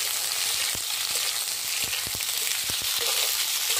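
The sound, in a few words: ridge gourd frying lightly in mustard oil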